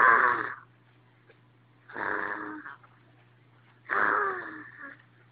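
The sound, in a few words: child imitating her father's snoring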